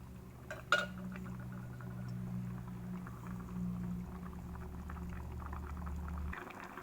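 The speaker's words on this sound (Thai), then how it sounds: "ในขณะที่เราต้มหมูนะคะ" Pork boiling in a pot for a Lao-style curry with cassia leaves gives a steady low bubbling rumble, with a brief clink of metal near the start, before the sound cuts off abruptly.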